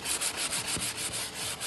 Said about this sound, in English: using this sanding block with 180 grit sandpaper